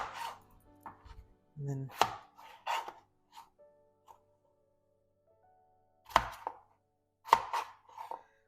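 A knife chops potatoes into small cubes on a cutting board, giving scattered, crisp thuds in short clusters with quiet gaps between them, and a voice briefly speaks.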